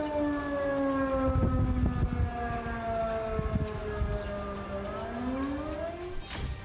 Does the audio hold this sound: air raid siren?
yes